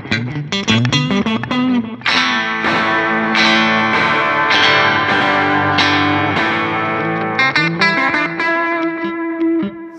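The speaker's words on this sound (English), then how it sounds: "These are some old, gnarly, distorted tapes. You can hear there's a lot of grit on the trails." Electric guitar through an old tape delay pedal with gnarly, distorted tape, strummed chords and picked notes trailing off into gritty, smeared repeats that pile up and sustain loudly throughout, with no talking.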